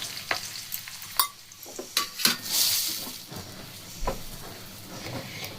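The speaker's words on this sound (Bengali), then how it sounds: "এই বেসন খুব ভালো করে আমি এখন তেলের মধ্যে ভেজে নেব, একদম মিডিয়াম টু লো ফ্লেমে" Gram flour (besan) fries in oil over a medium-low flame, with a soft steady sizzle beneath repeated scraping and clinking as a utensil stirs it against the pan.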